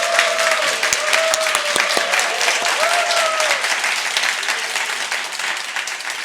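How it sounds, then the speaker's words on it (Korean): Audience applause breaking out after a church's 50th-anniversary panel discussion, a dense, steady wash of clapping from a crowd that holds for several seconds, with faint tonal sounds at the start. "우리 큰 박수로 한번 감사 인사를 드릴까요?"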